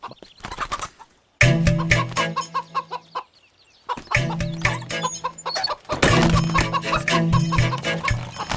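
Chickens clucking in bursts close by, dense overlapping clucks with short gaps of near silence between groups, no talking.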